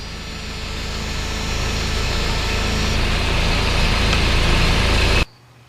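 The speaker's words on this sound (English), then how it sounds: "it's still idling low" A Toyota 22RE truck engine idles low and steady, a constant rumbling drone that cuts off abruptly at the end.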